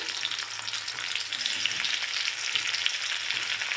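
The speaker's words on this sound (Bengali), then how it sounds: "এই যে লঙ্কাটা আর লঙ্কাটা একটু ভাজা ভাজা হবে" Green chillies and chopped tomatoes fry in oil with a dense, steady sizzle and faint stirring, close up and continuous with no voices.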